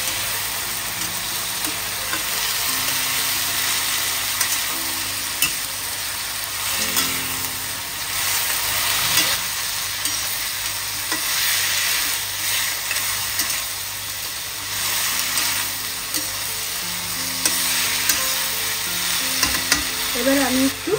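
Flat beans and beetroot frying in a pan while being stirred, a dense continuous sizzle with repeated scraping strokes across the pan, close and fairly loud, with no voices.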